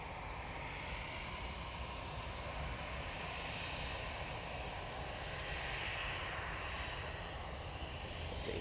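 An easyJet airliner comes in to land at Manchester Airport, its engines giving a steady, fairly faint roar and whine that swells slightly midway and carries on without a break.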